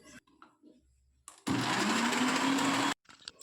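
A mixer grinder churns mint chutney with a little water in one loud, even burst of about a second and a half. Short quiet stretches with faint handling noises surround it.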